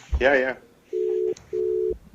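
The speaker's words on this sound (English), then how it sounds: "Can you hear ringing?" A telephone ringback tone on an outgoing call sounds twice as steady low buzzing tones with short gaps between them, following a brief spoken voice at the start.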